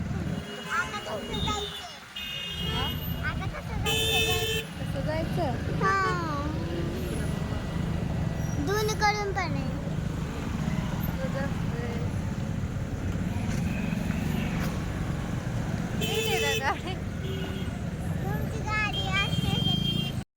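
Steady road traffic rumble with engines and occasional horn-like tones, voices chattering throughout over the continuous noise.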